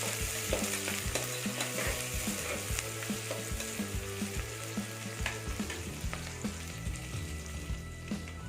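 Green chillies and onions frying in a pan for egg biryani, a steady sizzle with repeated scraping and stirring clinks of a spatula, close and continuous.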